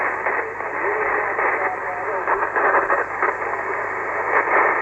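Continuous hissing static from a weak amateur radio signal from a ZL (New Zealand) station, a steady band of crackling noise with a faint hum and no clear voice coming through.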